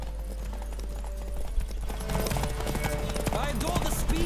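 A horse gallops in The Witcher 3 video game, a steady run of rapid hoofbeats over constant in-game ambience, growing busier and louder partway through.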